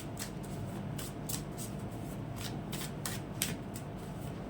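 Tarot cards are shuffled by hand, a quick run of soft papery riffles and slaps in an uneven rhythm, close and quiet against faint room noise.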